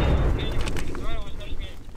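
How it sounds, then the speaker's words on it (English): A grenade launcher explosion in a Ukrainian war zone lands as a deep, heavy boom at the start, followed by a rumbling tail. People talk over the fading noise. "Was that a grenade launcher?"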